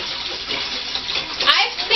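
Distilled water from a gallon jug pouring into a big stainless steel pot, a loud, close, rushing splash that swells briefly toward the end.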